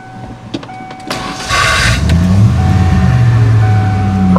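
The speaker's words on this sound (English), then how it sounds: "Let's get the keys out of my pocket and start her up." A Ford Bronco's engine cranks after a few clicks and fires up, then settles into a loud, steady idle close by.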